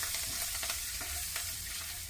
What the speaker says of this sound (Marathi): आता आपण कोबीच्या ह्याच्यात आपण ओतून घेणार आहोत